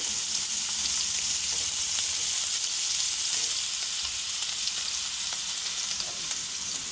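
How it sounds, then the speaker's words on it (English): Steak for steak au poivre sears in a hot pan, giving a loud, dense, unbroken sizzle that holds steady throughout with no voices. "that's when we want to add our steak. And that's the sound that you want to hear."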